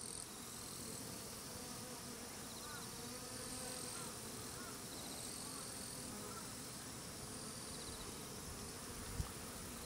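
A swarm of Japanese honeybees drones at a hive entrance, a dense steady buzz of many wings close by, continuous and even throughout with one brief knock near the end and no talk.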